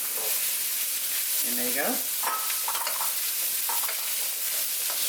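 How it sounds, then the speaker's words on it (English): Drained garbanzo beans fry in a pan over medium heat with a continuous sizzle while being stirred, the scraping clearly audible; a person speaks briefly over it. "It's starting to fry."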